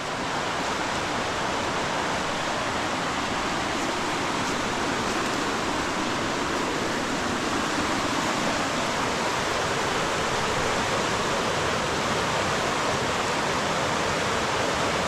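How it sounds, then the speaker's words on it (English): Fast-moving creek water rushing through Loyalsock Forest on a hike near Dutchman Falls and the Haystack Rapids, a steady, dense roar of churning flow that stays close and unbroken throughout. "That water's moving pretty fast"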